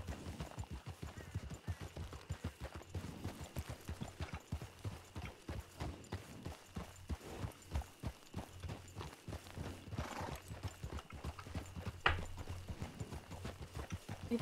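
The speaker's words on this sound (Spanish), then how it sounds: "Pues esos son caballos" Horses' hooves clip-clop steadily in the RedM video game, a dense run of close, crisp hoofbeats that carries on throughout, with faint background ambience.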